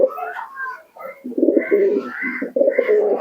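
Akash Pukuri Andra pigeons coo close by in a series of soft, throaty, rolling calls that rise and fall in short phrases against a quiet background.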